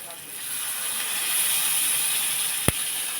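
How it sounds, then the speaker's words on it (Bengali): Steady sizzling hiss of chicken frying with spices in a pan as water is added, broad and continuous, with one brief sharp click near the end and no talk. "সব মশলা দিয়ে ভালো করে কষিয়ে নিয়েছি। এবারে দিয়ে দেবো জল।"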